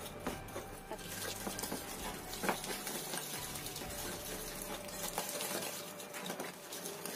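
Soft, steady scraping and pattering as sugar and butter are stirred together in a bowl until dissolved, quiet and close with no talking.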